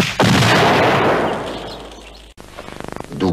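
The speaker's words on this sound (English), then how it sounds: "D'où peut venir cette explosion?" A single loud, close blast with a sharp onset and a long rumbling decay, followed after a brief cut by a quieter buzzing, fluttering noise.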